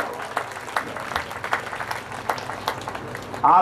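Audience clapping at a Hindu religious discourse on the Rukmini–Krishna wedding episode, a steady run of scattered claps through a hall with a louder burst near the end.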